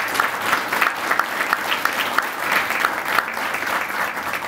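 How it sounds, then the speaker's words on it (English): Audience applause at a city State of the City presentation, steady dense clapping from a large crowd throughout, fairly loud and sustained. "let's give them a round of applause."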